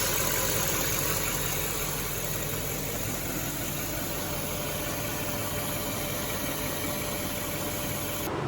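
A Land Rover LR3 engine idles at operating temperature, a steady, even rumble with broadband hiss that holds constant and close throughout before cutting off at the very end.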